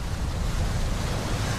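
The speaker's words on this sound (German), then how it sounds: "Ein Unwetter kündigt sich an." Storm wind and choppy waves sweep the Irrawaddy river in Burma aboard a river boat, a loud, unbroken rush of wind and water with heavy low rumble and no talking.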